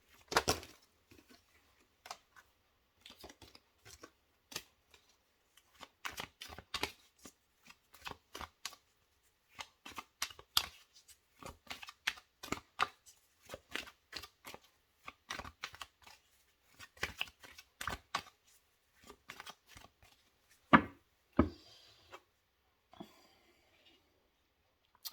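Oracle cards are shuffled for a reading, producing bursts of crisp riffling and snapping card sounds separated by short pauses, close and fairly quiet.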